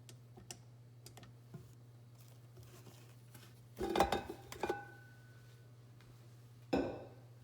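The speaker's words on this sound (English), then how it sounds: "I'm gonna just scrape the sides and make sure that's" Spoon or scraper scraping the sides of a mixing bowl of pumpkin cake batter, a few scattered close scrapes and clinks over a steady low hum, with two louder strokes near the end.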